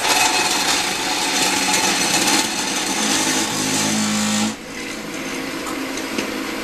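A tumbler cleaning brass shell casings churns loudly and steadily with a dense rattling grind, then drops to a slightly quieter, even whir for the last couple of seconds.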